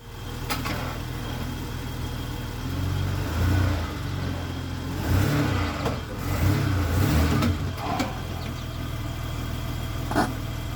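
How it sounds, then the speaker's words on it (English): A 1992 BMW 735iL engine idles close by, then revs in a few surges as the car creeps forward onto ramps, settling back to a steady idle. "okay, so let's get the car on these ramps."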